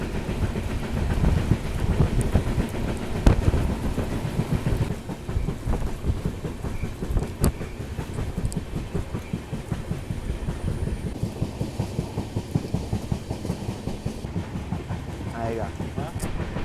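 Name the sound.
Poorna Express train running on rails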